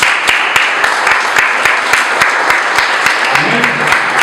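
Loud, close applause from a church congregation during a Communion service, with strong rhythmic unison claps standing out over a steady wash of clapping and a brief murmur of voices near the end.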